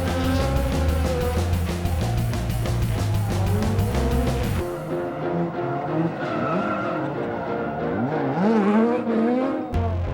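A loud drifting car screams at high revs with tire squeal and rising, falling engine sweeps, its roar close and sustained throughout.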